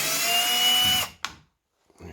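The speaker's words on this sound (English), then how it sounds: "Using a drill or a screwdriver, electric screwdriver like I'm doing." A cordless electric screwdriver drives a screw while a 2007 Ford Focus headlight is removed, a loud steady whir for about a second that stops abruptly, then a short click and faint handling noise.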